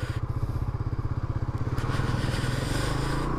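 A motorcycle engine idles steadily just after starting, its low, even thrumming pulse close and continuous, growing a little louder and rougher partway through with some light clatter.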